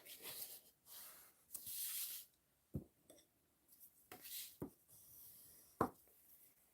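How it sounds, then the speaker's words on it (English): Folding a white cardstock card base and burnishing the crease, a series of quiet rubbing and swiping strokes, close and faint, separated by short pauses and a few sharp taps. "I'm going to fold and burnish my card base."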